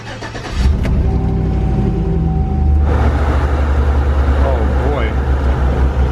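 A purple Chevy car engine cranks and starts at close range, settling into a steady, loud idle with a low rumble, with a voice briefly heard over it.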